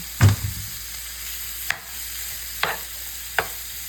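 Food browning in a pan gives a steady low sizzle, broken by a few sharp scrapes or taps of a utensil stirring, close up and with no voices.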